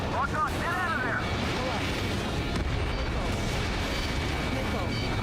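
Missile explosions and combat rumble in the jet game Ace Combat 7 form a dense, continuous roar, with a radio voice speaking at the start.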